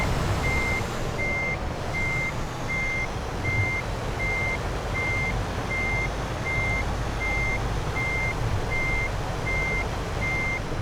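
A truck in Euro Truck Simulator 2 reverses blind-side toward a loading bay, its backup alarm beeping in an even, regular rhythm over a constant low diesel engine rumble.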